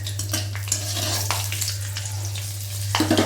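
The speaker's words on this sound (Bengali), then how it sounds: "এবার তেলের ভেতর দিয়ে দিলাম কালো জিরে আর কাঁচা লঙ্কা ফোড়ন" Nigella seeds and green chillies tempering in hot oil for a pomfret curry: a steady, close hiss of frying with a few stirring scrapes, alone over a low constant hum.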